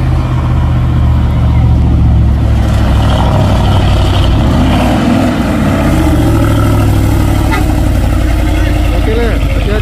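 A Volvo trailer truck's diesel engine roars loudly and continuously up close on a hill road, with a heavy low rumble building as it pulls away.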